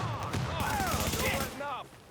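Rapid gunfire in a video game, with bursts of shots crackling through the clip alongside sweeping, voice-like tones and steady game noise.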